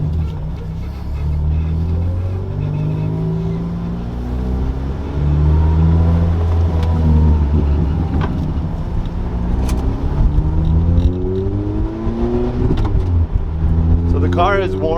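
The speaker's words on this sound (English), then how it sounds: "So let me show you a little bit the engine sound and how it feels when accelerating." A 2006 Lotus Elise engine heard from inside while driving, rising and falling through revs with loud tonal sweeps as it accelerates and shifts, steady road rumble beneath.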